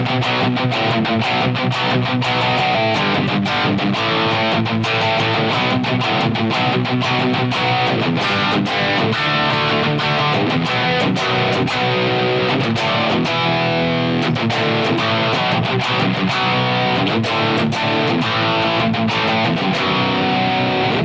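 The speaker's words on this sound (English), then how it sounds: "pop on that distortion using the Mandarin rocker, we get a nice rock preset" An electric guitar runs through a Line 6 Helix distortion rock preset, playing loud, continuous chugging riffs with sharp rhythmic accents and no talking.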